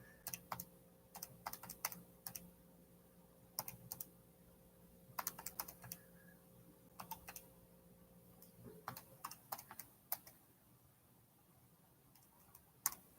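Quiet keystrokes on a computer keyboard arrive in irregular bursts of soft clicks over a low steady hum, with no talking.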